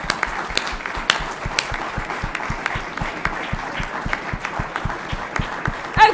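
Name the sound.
conference audience applause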